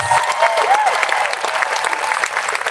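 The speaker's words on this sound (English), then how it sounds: "give her another round of your applause" A crowd at an outdoor protest rally in Midland, Michigan breaks into applause, a loud, steady roar of clapping lasting a few seconds, with a brief whistle near the start.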